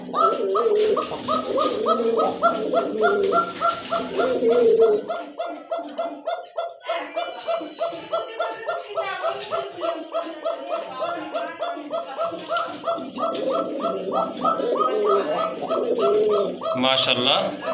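A pair of Koka pigeons coo repeatedly at close range in a rhythmic, overlapping series of soft throaty calls, with someone talking over the first few seconds and other market noise faintly behind.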